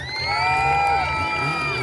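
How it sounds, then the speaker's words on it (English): An outdoor audience at a castle stunt show cheers loudly, with children shouting and whooping in a swelling burst that fades slightly toward the end. "Give him a massive cheer if you think you can do it."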